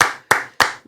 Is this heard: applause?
yes